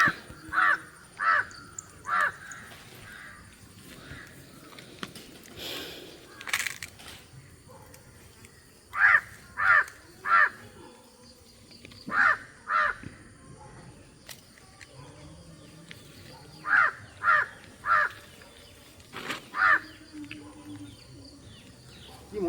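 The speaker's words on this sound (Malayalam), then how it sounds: "ചേട്ടനെ കണ്ടിട്ടാണോ കാക്ക വിളിക്കുന്നത്?" Repeated caws from a crow ring out in short bursts of two to four calls, spaced across the scene at moderate distance over quiet outdoor background; occasional faint voices.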